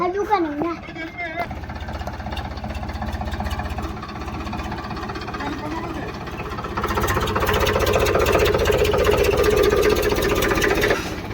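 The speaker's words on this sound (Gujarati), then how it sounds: "વાડીમાં ટ્રેક્ટર જુઓ તૈયારી કરી રહ્યા છે" A tractor engine runs at a steady idle on a farm field during sowing after rain, a continuous low rumble that grows a little louder partway through, with people talking over it.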